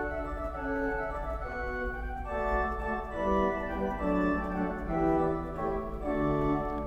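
A pipe organ on an Austin instrument with five manuals plays a lively passage on a nasard stop, sustained overlapping notes moving steadily and filling the room without talk.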